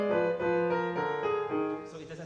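Piano played with melody and bass at equal loudness, a short phrase of sustained notes and chords in a steady, even texture, moderately quiet and with no talking.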